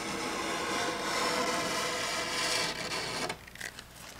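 A chisel stick scraping along the edges of an epoxy fillet, a close, continuous rough rasping that runs for a few seconds, then stops abruptly and leaves a few faint scuffs.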